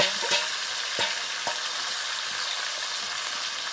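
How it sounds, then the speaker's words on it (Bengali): Marinated chicken feet sizzle in a hot pan while a spatula scrapes and knocks against it in a few sharp strokes; the sizzle keeps up underneath, with no talking. "এবার মেখে রাখা মাংসটা দিয়ে দেবো, তারপরে খুব ভালোভাবে কষিয়ে নিতে হবে।"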